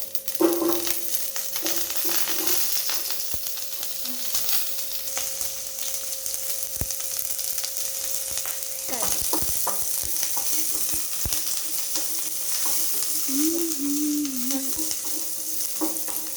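Onions, cumin, mustard seeds and coriander fry in a pan with a steady, loud sizzle, broken by a few scrapes and stirs, no voices over it.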